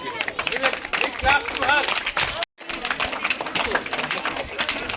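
A group claps hands in quick, uneven bursts, mixed with crowd chatter and movement, loud and close, with a brief silent break midway.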